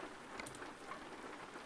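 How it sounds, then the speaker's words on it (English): Rain patters steadily in the video game American Truck Simulator, a faint even hiss of drops with occasional brighter ticks. "It's raining."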